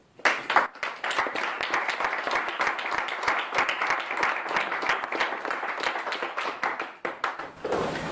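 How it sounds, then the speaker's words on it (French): Audience applause at a French political gathering: dense, steady clapping from a large crowd that holds for several seconds before breaking off near the end. "vous avez déjà fait une première salle d'applaudissements, je vous propose d'en faire une deuxième"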